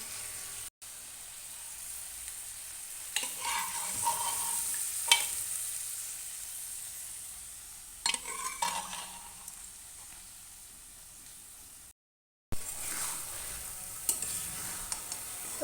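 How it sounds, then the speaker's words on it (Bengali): Dal being stirred and fried with tomatoes in oil in a pan: a low, steady sizzle with several scraping stirs in short bursts, faint and close, with no talking. "এখন ডাল দিয়ে আবার ভালো করে একটু ডালগুলোকে টমেটোর সাথে মিশিয়ে ভাজা ভাজা করে নেব"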